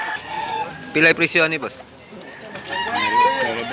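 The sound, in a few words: bullstag (young rooster) crowing and clucking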